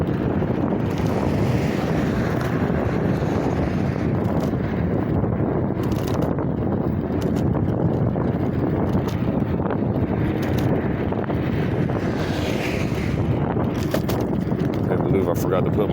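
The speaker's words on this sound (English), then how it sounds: "there's a headwind and it's blowing" Strong headwind, at least 15 to 20 miles an hour, buffets the microphone of a TST F8 MAX being ridden outdoors, a loud continuous roar and rumble throughout, with a voice talking over it.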